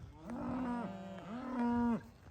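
Farm cows mooing as they are called in, two long, drawn-out moos back to back, fairly close and clear with a quiet outdoor background.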